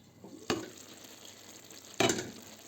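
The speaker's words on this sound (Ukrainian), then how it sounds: "закипіло. Роблю менший вогонь." Liquid in a lidded pot on a medium stovetop flame comes to a boil: a faint, steady simmering hiss broken by two sharp clattering bursts about a second and a half apart, close by, with no talk.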